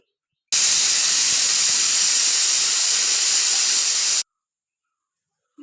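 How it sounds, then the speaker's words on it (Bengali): A pressure cooker boiling chickpea lentils on an induction cooker lets off one loud, steady blast of hissing steam from its whistle for roughly four seconds, then stops abruptly into quiet. "ছোলার ডালটা সিদ্ধ করার জন্য আমরা 1 থেকে 2টা সিটি দিয়ে নিব"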